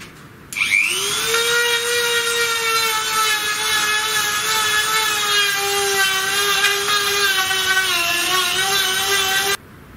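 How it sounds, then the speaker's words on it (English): A Dremel-style rotary tool smooths a part during a woodshop CNC router build, running as one steady, close, high-pitched whine for about nine seconds with no talking. "that's a Dremel or something like a Dremel"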